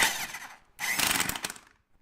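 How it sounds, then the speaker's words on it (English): An impact wrench works the lug nuts on an Allis tractor wheel: two short, loud, close bursts of rattling pneumatic hammering with a whine, separated by a brief gap, and nobody talking. "this is a pretty hefty lug or impact wrench to try to do this one-handed"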